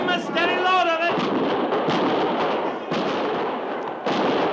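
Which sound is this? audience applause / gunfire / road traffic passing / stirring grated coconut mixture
gunfire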